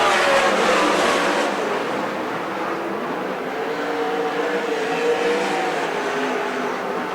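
Sprint cars race a heat race lap at a dirt track, heard as a broad, steady engine roar from a distance that swells briefly at the start and then holds level without talk.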